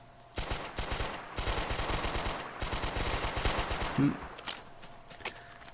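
Automatic gunfire with recoil in a third-person shooter video game: rapid bursts of close, sharp shots in rhythmic strings, with a short pause between volleys and a final burst before fading to quiet.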